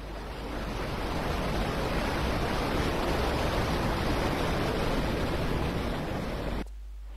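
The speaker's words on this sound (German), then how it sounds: "Das hat sich angehört wie Wasser." Rushing water in the video game Tomb Raider Quest of Gold, set in a hidden forest level: a steady, loud broadband wash like a waterfall or surf that runs unbroken for nearly seven seconds, then abruptly drops to a quieter hiss.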